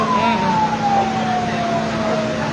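A fire engine siren wails steadily as the truck arrives at a burning electronics shop in Lubuklinggau before dawn, loud and close with a slowly falling tone over background noise.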